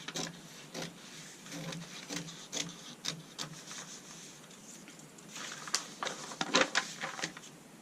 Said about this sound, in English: I'm going to cut through all of those layers just to the point there.